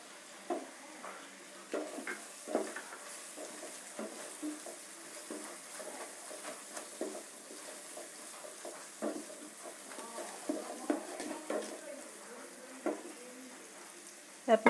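Spice mix sizzling and frying in a pan for Assamese chicken biryani, a soft continuous crackle broken by repeated scraping stirs of a spoon against the pan.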